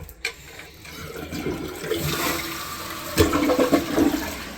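A newly installed toilet flushing after its wax ring was tightened, a loud rushing swirl of water that builds and surges again near the end, close by with no talk.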